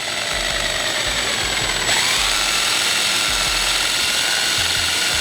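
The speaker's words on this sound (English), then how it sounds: "I'll drill the pilot holes from there." A power drill drills pilot holes for parking sensors in the bumper of a 2008 Mercedes-Benz E-Class, whirring steadily at close range, a continuous high whine with a slight change in pitch partway through as it bites.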